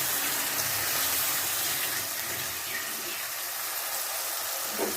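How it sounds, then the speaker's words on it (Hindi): Water poured into a pan of mixed vegetables cooking with red chillies, giving a steady close rushing hiss that runs unbroken through the whole stretch with no talk. "थोड़ा सा मैंने डाला इसमें पानी।"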